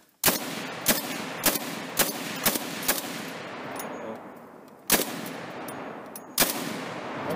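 Single shots from a WiseLite Arms semi-auto belt-fed PKM in 7.62x54R boom out at an outdoor range, about eight loud reports at uneven intervals, each trailing off in a long echo, with no talking between them.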